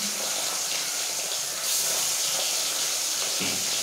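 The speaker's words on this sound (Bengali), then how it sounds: "আগে বড় মাছগুলো ভেজে নিচ্ছি, তারপরে ছোটো মাছগুলো ভাজবো।" Large fish frying in hot oil, giving a steady, dense hiss of sizzling that holds evenly throughout, fairly close and with no talking.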